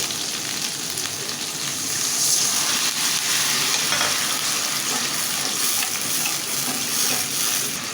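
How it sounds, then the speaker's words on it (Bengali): Water poured into a hot pan of fried ginger and garlic for a fish curry with bottle gourd, giving a loud, steady hiss and sizzle with watery splashing that swells slightly after the start and holds to the end, no talking. "এখন আমি একটু পানি দিয়ে দেব"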